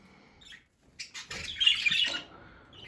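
Pet budgerigars chirp at close range in a nest-box setting, with a short squeak followed by a denser burst of bright twittering calls that taper off.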